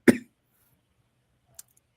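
A single short, sharp cough close to the microphone, followed by near silence and a faint click.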